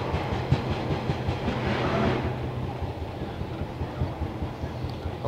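Grand Central HST train heard from on board a Northern Class 142 between Newcastle and Sunderland, a steady rumbling roar with rhythmic clatter of wheels over rail joints, swelling briefly then settling to a continuous drone.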